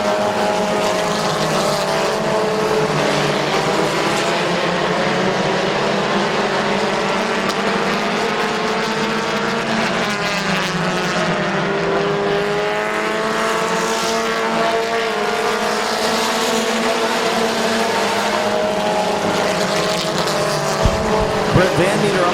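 Race cars circle Midvale Speedway in a continuous loud roar of engines, with pitch rising and falling as they pass, under a commentator's steady calling of the race.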